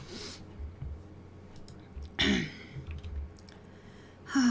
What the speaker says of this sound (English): Always with the coughing.